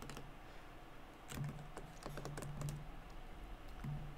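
Rapid typing on a computer keyboard, irregular bursts of clicks close by with short pauses, alone without talk.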